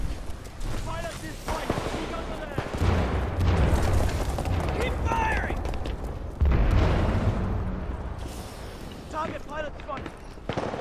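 Grenade blasts in the shooter game Titanfall 2, heavy booming explosions with deep low rumble, one strong burst midway, amid constant gunfire and game noise, with voices talking over the action.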